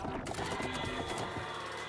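Rifle gunfire in an Unreal Engine shooter game (AGLS), with projectiles bouncing off the ground and hitting enemies; a dense, continuous burst of loud shots and impacts runs for the whole stretch with a voice faintly underneath.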